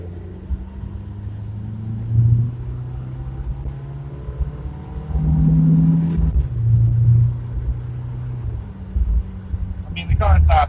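A Chevrolet Chevette with a small vacuum leak pulls away with a steady low engine drone that swells in a few surges of acceleration, heard from inside the cabin with faint talk and a rattle near the end.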